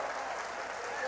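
A bowling crowd applauds at a PBA doubles championship stepladder final: a brief, steady wash of clapping that stays fairly even throughout and is heard only at a moderate distance.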